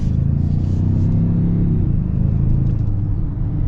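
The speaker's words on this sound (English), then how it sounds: "Get another acceleration here." A 2025 Ford Bronco Sport Badlands accelerates with a close, loud engine rumble that holds steady, then eases slightly as the pull settles.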